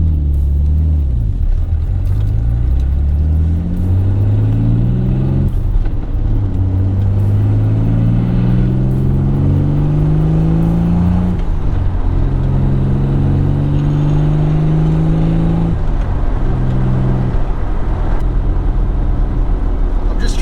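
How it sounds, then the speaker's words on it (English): A fully built Nissan 300ZX pulls away on a smooth clutch engagement, its engine loud and close, rising in pitch through several climbs with short drops between gear changes. "get the car moving without giving it any gas"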